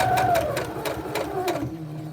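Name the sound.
sewing machine stitching a face mask strap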